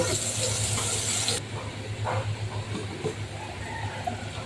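Water hits a hot pan of fried potatoes with a loud hissing sizzle that cuts off sharply, followed by quieter steady simmering.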